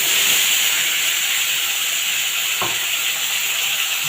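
Spice paste with whole cumin sizzling in hot oil, a steady bright hiss filling the scene, broken by one short clatter partway through and no voices.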